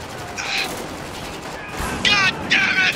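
Gunfire in the video game Spec Ops: The Line, heard as several bursts of automatic shooting, some distant and some closer and louder, over a steady noisy battlefield ambience.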